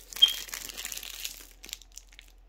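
Small stickers being peeled and handled off a sheet, a soft close crinkling and crackling burst for about a second and a half, then a few faint isolated crinkles.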